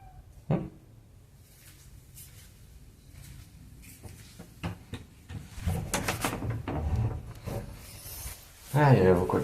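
A cat scratches and rubs at a wooden door, with uneven rasping bursts that grow busier and louder toward the end, while a person talks.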